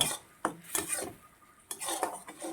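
A utensil scrapes and clatters in a pan as vegetables with turmeric and salt are tossed and stirred, in a few irregular bursts of metallic scraping with short pauses between.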